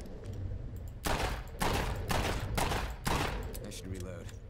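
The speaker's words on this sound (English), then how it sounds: "I'm just gonna be here shooting this thing." Gunfire in State of Decay 2 comes as several loud bursts of rapid shots separated by short pauses, close and punchy, with quieter game sounds between them.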